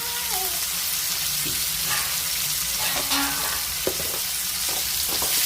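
Bitter gourd for a North Karnataka palya fries with chilli powder in a pan, giving an even, close sizzle with occasional light scrapes of a spoon.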